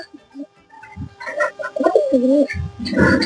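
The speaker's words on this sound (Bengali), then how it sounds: "এখানে আমার একজন বানজা কবুতর আছে, বানজা।" Siraji and Banja pigeons cooing close by in a loft, a few throaty warbling coos rising and falling over soft rustling, with a brief burst of fluttering near the end.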